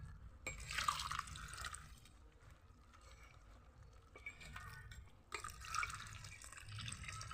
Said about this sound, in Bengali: পরিমাণ মতন যতটা জল লাগে আস্তে আস্তে আমি জলটা দেব।